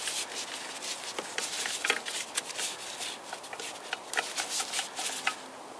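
Wrench work loosening a bolt on the clutch of a Toyota VVT-i engine during disassembly, heard as close, steady scraping and rubbing with small irregular clicks and ratchety ticks, with no talking.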